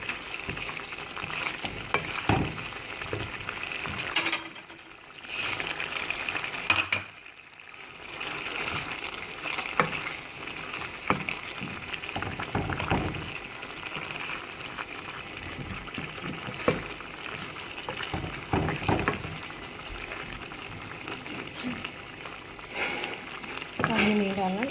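Beans qeema of minced meat and beans cooks in a pan, giving a continuous soft sizzle and frying hiss with occasional stirring scrapes, faint and close, with brief pauses.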